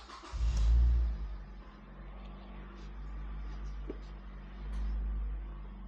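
A Mazda Miata NC pulls away with a low engine rumble heard from inside the cabin, swelling with throttle at the start and again near the end, steady and moderately quiet in between.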